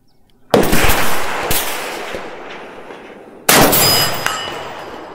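A bolt-action AR rifle firing 77 grain ammunition outdoors: two sharp, loud gunshots a few seconds apart, each a sudden crack trailing off into a rolling echo.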